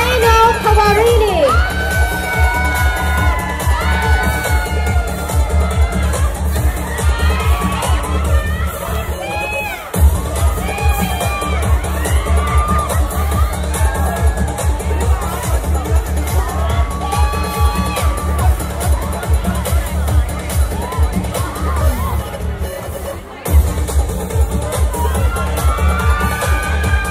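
A large pageant audience at Mister National Universe 2022 cheers, whoops and shouts continuously, a dense roaring crowd that stays loud throughout, with music and an announcer's voice mixed underneath.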